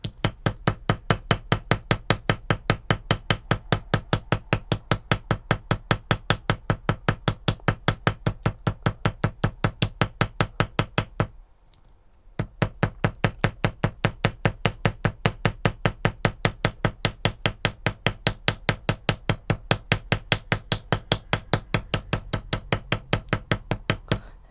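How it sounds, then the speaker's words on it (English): Rapid, steady blows of an 8-ounce ball peen hammer on copper for a bracelet bar, ringing metallic taps in a fast even rhythm, close and loud, with one brief pause midway. "this one's my 8-ounce ball peen hammer that I'm playing with tonight"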